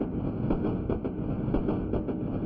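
A local train runs at night with a steady rumbling roll and a rhythmic clickety-clack from the wheels, moderately loud and continuous, with no voices over it.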